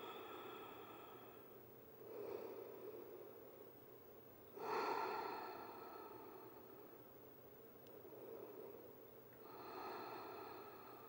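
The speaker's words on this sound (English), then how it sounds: "Ujjayi breathing." Slow, audible ujjayi breaths during a yoga hold, three long throaty rushes of air spaced several seconds apart, each swelling and fading, close and alone without talk.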